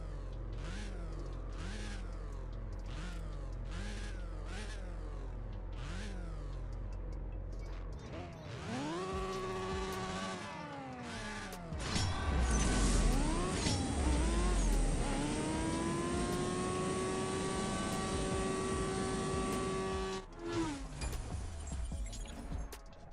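Honda S2000 (Veilside body) in CSR Racing 2 drag racing, engine revving up through gears in repeated rising sweeps, then a loud sustained high-rpm wail with a bright steady whine near the end.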